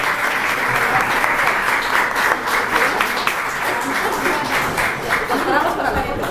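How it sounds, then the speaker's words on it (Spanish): A large audience at a formal electoral-justice forum on political violence against women claps loudly and steadily, a thick continuous wash of hands with faint murmuring underneath. "Brindamos un fuerte aplauso, por favor."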